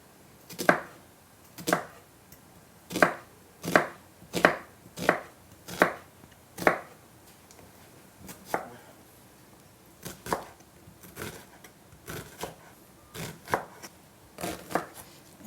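A knife chopping an onion on a board: about a dozen crisp, evenly spaced cuts come first, followed by a looser, softer run of lighter chops, all close and clear with no talk.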